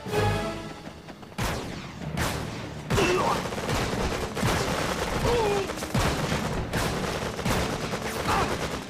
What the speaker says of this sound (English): those enemy training robots fired upon the structure rather than directly at your peacekeepers